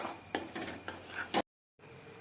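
A spoon stirs a spoonful of ghee and a spoonful of sesame oil in a pan for sesame sweets, giving a few close scraping strokes and light clinks before cutting to near silence and then a faint steady hiss.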